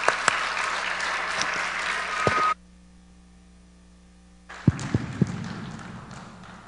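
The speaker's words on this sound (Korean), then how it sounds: "박수로 환영하겠습니다." Audience applause welcoming a speaker to a family-ministry seminar at a church, a steady burst of clapping that cuts off abruptly, a few seconds of near silence, then clapping and scattered noise resume.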